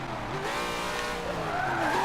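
A Corvette sliding sideways in a racing video game, its tyres squealing continuously over a loud engine roar for a couple of seconds.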